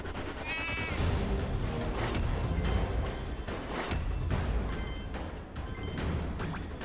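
Sheep bleating in Skylanders: Trap Team, a brief wavering cry early on set against loud, continuous game effects, crashes and music that largely bury it.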